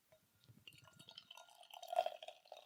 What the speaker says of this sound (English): So, I'm going to pour into my teku, because I can.